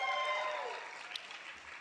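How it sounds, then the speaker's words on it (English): Scattered audience applause at an awards tribute, fading out over a couple of seconds, with tonal ringing and faint background behind it. "I hear some applause, keep going, that's good."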